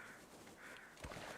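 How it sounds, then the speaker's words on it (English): Crows caw faintly in a snowy wilderness in the video game The Long Dark, a few harsh calls heard from a distance over steady wind-like background noise. "I do hear crows."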